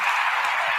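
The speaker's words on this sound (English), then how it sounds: "We get a hand clap." Brief burst of audience applause, a dense crackle of many hands clapping together, steady and fairly loud for under a second, with no speech over it.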